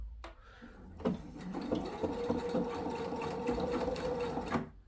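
A sewing machine stitches a seam on a sailor hat in a steady, quick mechanical whir, starting and stopping at the ends, moderately close and heard alone.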